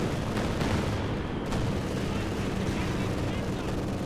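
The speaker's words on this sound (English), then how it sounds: "solid caddy barrage coming in there from Strum Panther" A Calliope rocket artillery barrage from a Sherman tank in Company of Heroes 2 crashes down in a dense, continuous wall of blasts and rumble, with voices talking over the din.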